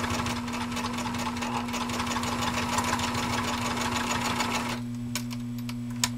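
A PFAFF 1222 sewing machine with a built-in walking foot runs fast and steady through six layers of Army-grade canvas, a loud, close, even mechanical rattle and hum that stops near the end, followed by a couple of light clicks.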